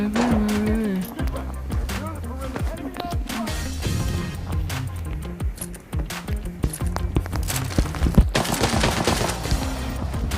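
Rapid bursts of automatic gunfire in the shooter game Arena Breakout, loud and close with repeated sharp shots over busy game effects, while a voice talks briefly.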